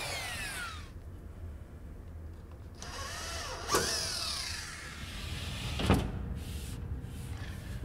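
A cordless drill drives screws into plasterboard on a partition wall, with two short whirring bursts that rise in pitch, separated by quieter stretches of room noise.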